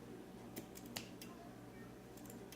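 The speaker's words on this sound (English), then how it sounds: "My shitty scissors." Scissors trim a candle wick with a few faint, sharp snips spaced irregularly over a quiet room hum.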